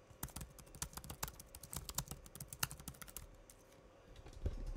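Fast typing on a 2015 model laptop keyboard, a close run of crisp, light key clicks with little thud, steady for several seconds and no talking.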